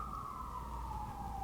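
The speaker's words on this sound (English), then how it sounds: "Sounds like there's an ambulance outside." An ambulance siren sounds outside as one long, slowly falling wail, heard faint and distant through a room's steady background noise.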